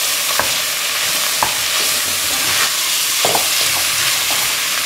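Shallots and bacon lardons searing in a hot pan as mushrooms are added, a steady close sizzle and hiss with a few soft scrapes of stirring throughout.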